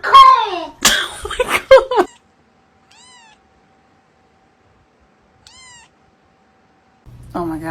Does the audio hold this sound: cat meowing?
yes